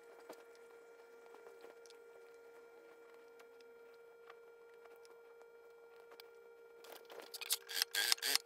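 Scissors cutting notches into floral linen fabric at the underarm of a dress bodice, heard as faint scattered snips over a quiet steady hum, then growing into a burst of louder, quicker cuts at the end.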